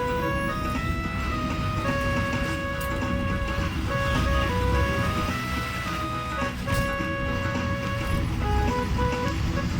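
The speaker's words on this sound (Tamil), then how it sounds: "பெரும்பாவூர் பஸ் ஸ்டாண்டுக்கு வந்துட்டோம் இப்போ" Busy Perumbavoor bus stand with buses and road traffic: a dense, steady rumble of engines and movement, with a bright, tuneful melody ringing over it throughout.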